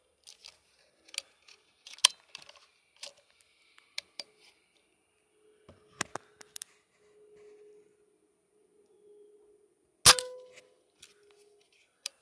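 Several sharp, spaced cracks from a Diana Stormrider .177 gen2 air rifle firing pellets, each a brief snap with small clicks and handling noise between, one shot much louder near the end, in a quiet setting.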